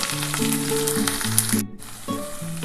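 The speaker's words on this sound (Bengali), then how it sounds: "আমার পেঁয়াজটা ভাজা ভাজা হয়ে গেছে" Onions frying in a pan with a little sugar added, a steady close sizzle throughout with faint tonal hum in the background and a brief dip near the middle.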